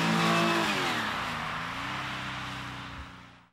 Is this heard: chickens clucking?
no